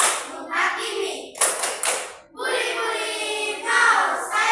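A group clapping hands together in a classroom with children, lively bursts of bright applause rising and falling in two waves, loud and close, with no talking.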